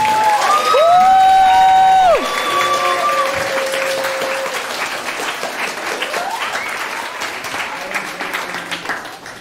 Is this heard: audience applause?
yes